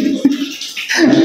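Water gushes strongly from a tap in a house, a close, continuous splashing rush that briefly dips and then surges again.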